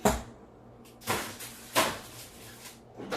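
An oven door on a home kitchen oven shuts with a few bumps, including two firm closing thuds, over quiet room noise with no talking.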